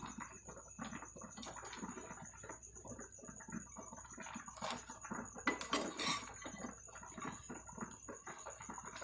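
Marshmallow fruity cereal ingredients being mixed together in a bowl, a quiet run of scraping, clinking utensil taps and soft rustling, close and uneven, with no talk.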